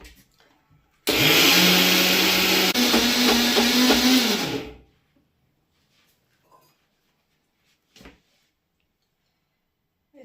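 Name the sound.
mixer grinder grinding rice for dosa batter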